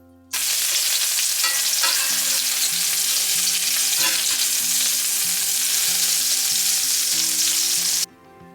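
Shrimp, corn and lime fritters fry in a pan of oil about a quarter inch deep. A loud, steady crackling sizzle starts abruptly, carries on with faint pops and a low hum underneath, then cuts off near the end.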